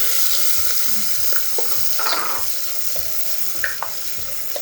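Chopped onions frying in hot oil in a pan while cooking an avarekalu palak green pulav, with a steady loud sizzle and repeated scraping strokes of a spoon stirring, no voices.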